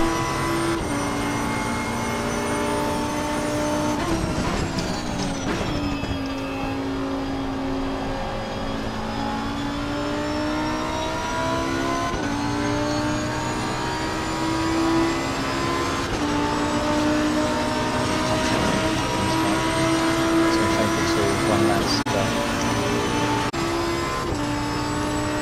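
A race car engine in the racing game OTL drones loud and continuous through gear changes, pitch sliding up under acceleration and dropping on downshifts and braking, engine harmonics steady throughout with no voices.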